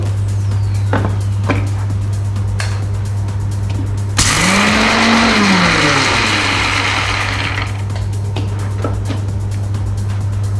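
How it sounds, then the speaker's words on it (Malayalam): A mixer grinder jar grinds roasted peanuts for a banana milkshake. A loud whirring burst lasts a few seconds, its pitch rising and then falling, over a constant low electrical hum. "കുറച്ച് കപ്പലണ്ടി ജാറിലിട്ടിട്ട് ഒന്ന് പൊടിച്ചെടുക്കുന്നുണ്ട്."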